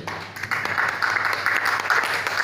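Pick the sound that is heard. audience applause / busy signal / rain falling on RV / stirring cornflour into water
audience applause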